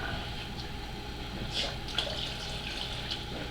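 Water is poured into a container to mix UltraCal plaster for an aircraft canopy plug, a soft, close trickle and splash with faint gurgles, fairly quiet and steady.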